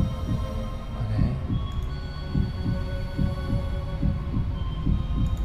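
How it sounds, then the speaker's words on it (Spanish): A steady heartbeat sound effect inside a music track pulses in regular double thumps, loud and close, over a low sustained hum with no voices. "Latidos de corazón."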